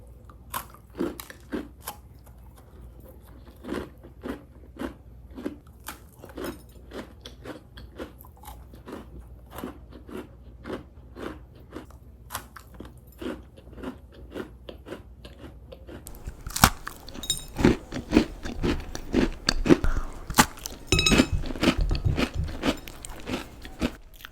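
Thawed frozen honey sweet potato being bitten and chewed up close, a steady run of crisp crunchy bites with soft mouth sounds, growing louder and denser toward the end, with no talking.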